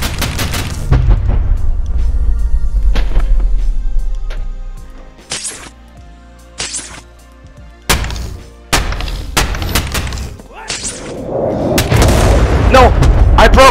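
In the VR game Boneworks, repeated heavy booms and cracking impacts ring out as a planet is blown apart, loud and close with brief gaps, while a player talks excitedly over them.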